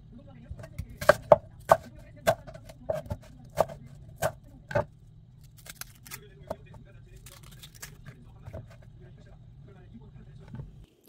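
An onion being cut and its outer layers peeled, heard as a series of sharp knife chops and crisp peeling snaps spaced unevenly over a low background, with a voice talking faintly at times.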